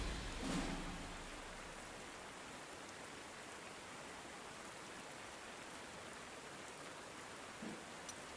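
Steady, even rain in the war strategy game Panzer Corps 2, a dense hiss filling the whole stretch with a brief swell near the start and no voices.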